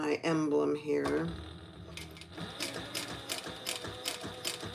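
A voice speaks briefly, then a sewing machine stitches around an emblem on slick lined fabric with a fast mechanical clatter of ticks and ratcheting, moderately loud and close.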